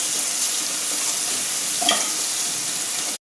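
Ginger garlic paste frying in a pan for a drumstick tomato curry, a loud continuous sizzle with one brief stir midway, cutting off abruptly.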